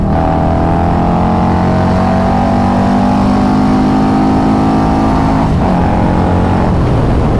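A Harley-Davidson Road Glide motorcycle accelerates hard, engine note climbing steadily through the gears up to the rev limiter near 6,500 RPM, loud and close with a dense rumble throughout and no talking.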